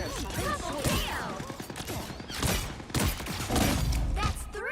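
Pulse cannon fire in the Marvel Rivals video game comes as rapid bursts of booming shots and thuds, mixed with sweeping electronic effects and game voice lines, loud and busy throughout.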